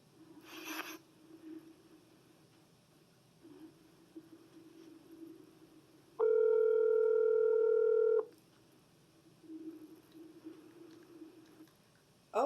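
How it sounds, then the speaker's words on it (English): A phone call rings once as a steady, loud tone lasting about two seconds, with quiet rustling before and after it. "Okay, the phone is ringing."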